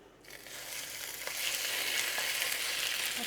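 Veal kidneys sear in a very hot pan, a bright steady sizzle that swells up after a quiet start and holds loud and close, with no talking.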